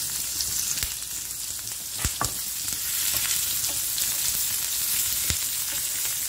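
Finely chopped medium onion and two green chilies sizzle steadily in hot oil, a dense close crackle broken by a few sharp clicks of a spoon against the pan.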